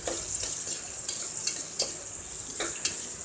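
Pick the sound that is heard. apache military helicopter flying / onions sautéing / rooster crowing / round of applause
onions sautéing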